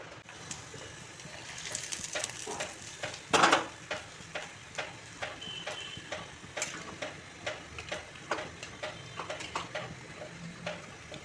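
A spoon scrapes and taps against a pot of fish-head ghonto made with katla as tempering spices go in, with regular clinking strokes about every half second over a faint sizzle and one louder clatter early on.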